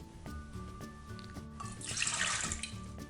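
Water pours steadily from a tap into a glass measure for pastry dough, a close continuous splashing that swells louder toward the end, with no voices.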